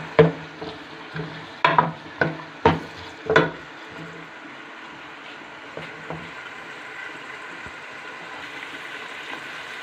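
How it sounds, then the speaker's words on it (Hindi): Chopped onions go into hot oil for a chicken and chickpea curry, opening with a run of sharp scraping clatters of a spoon against the pot, then a low steady frying hiss with occasional faint knocks. "ऑयल गर्म हो गया और हमने प्याज को इसके अंदर डाल दिया है"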